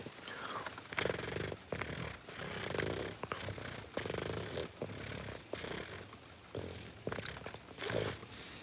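A person imitates a cat purr with their voice close to the microphone, producing a series of rough, rumbling breathy bursts in a regular rhythm, each about half a second long with short pauses between.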